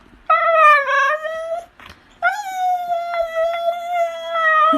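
A puppy makes odd, drawn-out whining and howling sounds close by, two long tonal calls separated by a short pause, with no talking.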